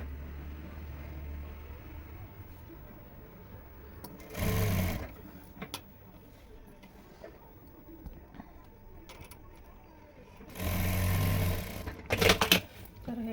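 A sewing machine stitches seams on a dress made from a saree, two short bursts of rapid whirring stitching at close range, separated by quieter handling sounds and faint background noise.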